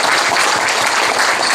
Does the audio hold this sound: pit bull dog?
no